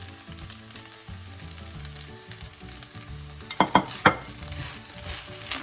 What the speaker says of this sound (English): Stir it continuously so that it won't be sticky